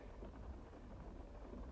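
Steady rain falling outdoors in Madison, Connecticut, a dense, continuous hiss and patter with low rumbling wind buffeting the microphone, no voices.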